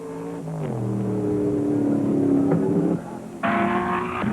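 Shelby Cobra race cars at the 1964 Sebring 12 Hours roar past with steady engine drone, shifting pitch as they change gear and rev, moderately loud with a sharper burst of engine noise near the end.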